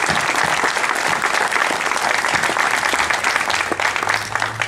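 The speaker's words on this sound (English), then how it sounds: "if we could just give them a round of applause" A graduation audience at Oakland Charter High School gives a round of applause for staff, with dense, steady clapping throughout and no speech over it.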